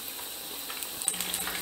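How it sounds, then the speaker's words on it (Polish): Pastry dough fries in hot oil, giving a steady, faint crackling sizzle with small pops scattered throughout. "zobaczcie, jak się pięknie smaży"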